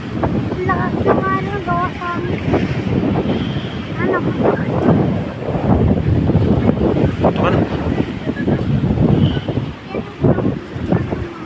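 Storm wind and churning, swirling waves at Gen Luna, Quezon, a loud continuous roar and buffeting close to the microphone, with people talking over it throughout.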